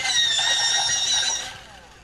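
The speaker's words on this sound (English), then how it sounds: "I'm going to have to sharpen my pencil." An electric pencil sharpener grinding a colored pencil, a loud steady high-pitched whir for about a second and a half before it winds down and fades.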